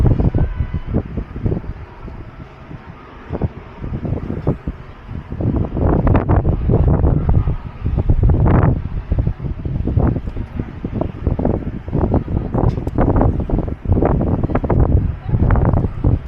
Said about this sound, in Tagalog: Maringatog levels ang hangin, ha? Sobrang lakas ng hangin.